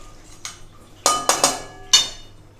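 A metal spoon clinks and scrapes against a pot while mutton curry is stirred, a few sharp knocks spaced across a quiet background.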